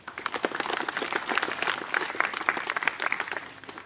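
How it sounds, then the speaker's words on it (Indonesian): A crowd applauds at a political support rally, with dense, sustained clapping from many hands filling the space at steady loudness throughout. "Mari kita beri aplaus sekali lagi."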